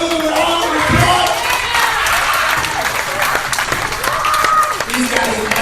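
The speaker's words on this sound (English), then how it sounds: "Give them a round of applause." A rodeo crowd breaks into loud, sustained applause mixed with cheering and shouts, with voices calling out throughout the burst.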